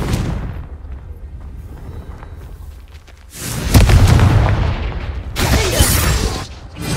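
A Confringo blasting spell from the Hogwarts Legacy video game bursts loudly twice, each a broad roaring explosion with a crackling tail, over a constant low rumbling backdrop.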